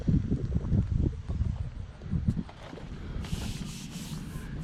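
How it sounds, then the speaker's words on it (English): Sanding down the body of a truck for rust repair and repaint, heard as steady close scraping and rubbing strokes with a brief hissier stretch toward the end. "Sanding all this back,"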